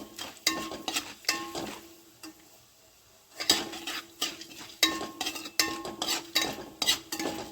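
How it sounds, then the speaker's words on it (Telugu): Chana dal and urad dal fry in oil for garlic rice, heard as repeated sharp clinks of a spoon against the pan over a light sizzle, with a short quiet gap midway and no talking. "ఇప్పుడు ఇది లైట్గా పచ్చివాసన పోయే వరకు మనం ఆయిల్లో ఫ్రై చేసుకోవాలి"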